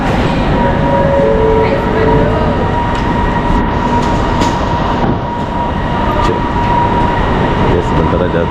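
Loud, steady rumble from inside a moving LRT train in Kuala Lumpur, with wheel and track noise, a whining tone and occasional clicks throughout.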